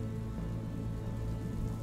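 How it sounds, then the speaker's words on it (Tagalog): Heavy rain pours steadily at night near an evacuation site, a dense continuous hiss and patter filling the whole clip with no voices. "Medyo malakas pa noon ang ulan"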